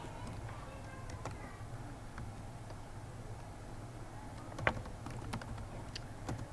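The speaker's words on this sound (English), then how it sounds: "And now I will start typing in my return address." Quiet, irregular typing on a computer keyboard while entering a return address, with scattered key clicks and one sharper tap under a low hum.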